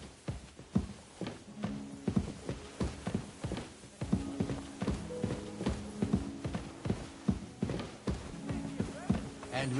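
Horse hooves clip-clop at a steady walking pace in the video game Kingdom Come: Deliverance II, a continuous run of moderately loud, close hoofbeats over a low background hum, with no talking.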